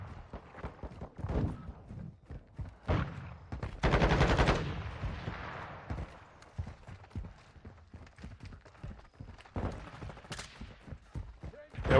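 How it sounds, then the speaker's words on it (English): Gunfire from Call of Duty: Modern Warfare 2 (2022) multiplayer rings out in sharp bursts and single shots, with louder automatic volleys and footsteps between them, close and punchy over a quieter game background. "Why is this guy shooting at me?"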